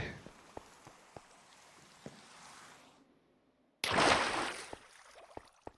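Video game rain hisses softly and steadily with scattered clicks, drops out for a moment, then returns as a louder, brighter burst of rainfall before easing again.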